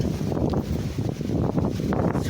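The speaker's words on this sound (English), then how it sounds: "I'm out here because I'm trying to record the wind. You hear that wind?" Strong wind gusts of around 40 to 50 miles per hour roar across the microphone outdoors, a loud, continuous rushing buffet with no pauses.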